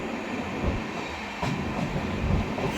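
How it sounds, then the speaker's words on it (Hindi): The Amrit Bharat Express rolls into Phaphund station on its inaugural run, running late: a continuous rumble of railcars and wheels with faint clatter, close and steady throughout. "तो अपनी ट्रेन पहुंच रही है फफूंद।"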